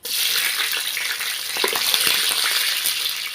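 Green chillies frying in hot oil after whole spices in a pan for cauliflower gravy, a loud, continuous, crackling sizzle heard up close with occasional bubbling bursts and no talking.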